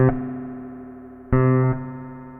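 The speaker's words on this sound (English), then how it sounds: "Maybe less reverb here." An electric bass run through a Ghost reverb pedal plays two plucked notes. Each rings out and decays with a light reverb tail, and no one is speaking.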